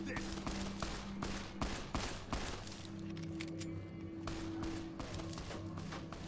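Gunfire in Fallout New Vegas, rapid repeated shots in quick bursts over a steady hum of game background sound.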